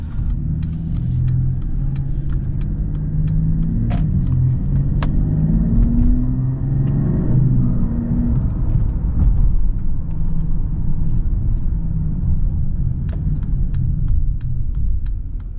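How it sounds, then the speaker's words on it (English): A 2020 Mercedes-Benz GLE 450 4MATIC SUV with a 3-liter inline-6 turbo engine driving, a steady low engine and road rumble heard from inside the cabin, with a few faint clicks and no speech. "the GLE 450 4MATIC SUV is a 3-liter inline-6 turbo engine producing 362 horsepower with 369 pound-feet of torque"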